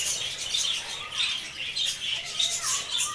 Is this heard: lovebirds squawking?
yes